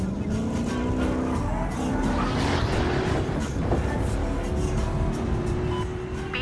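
Car engine revving and driving in the cops-and-robbers shooter game Battlefield Hardline on a downtown map, a loud steady motor drone with rising and falling pitch as it accelerates, surrounded by faint game noise and distant clatter.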